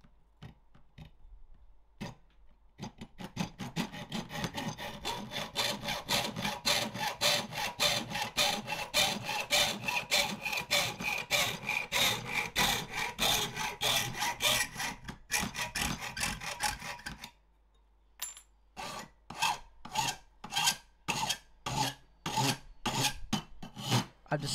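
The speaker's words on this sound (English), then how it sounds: "Finally time to cut out the final shape of the faceplate." Hand sawing or filing through a PC faceplate panel to cut out its final shape, a close, steady rasping stroke rhythm that runs continuously, briefly pauses, then resumes as separate, distinct strokes.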